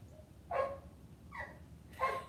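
A puppy gives three short, high whimpering yips spaced about a second apart. The calls are close and moderately loud over a low background hiss.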